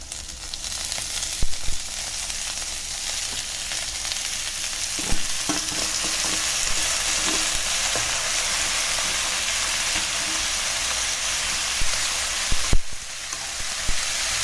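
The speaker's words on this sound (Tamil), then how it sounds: "வெங்காயம் போட்டு நல்லா வதக்கி விட்டுக்கோங்க" Onions fry in a pan with asafoetida for a spinach stir-fry, a continuous bright sizzle with occasional scraping stirs and small knocks of the spoon, steady and close with no talking.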